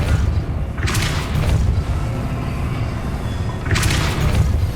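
The Depulso spell cast in the video game Hogwarts Legacy gives two heavy booming blasts a few seconds apart over a constant low rumbling background.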